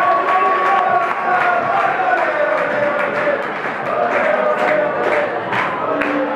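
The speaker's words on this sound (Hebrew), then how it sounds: "עשו כפיים לדודו, מגיע לו כפיים" A live studio audience cheers and applauds for Dudu during a marriage-proposal segment, a dense, steady roar of clapping and shouts sustained throughout with voices mixed in.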